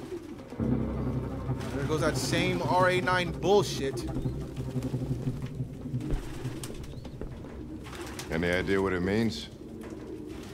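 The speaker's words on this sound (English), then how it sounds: "No human could live with all these fucking pigeons." Pigeons coo and flutter in a grimy apartment in the Detroit: Become Human video game, their throaty warbling calls loud and close, overlapping with people talking.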